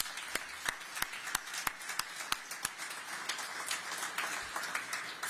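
A modest audience claps for an events team at a downtown holiday season announcement, with scattered distinct hand claps ringing out over a thin room wash and no voices.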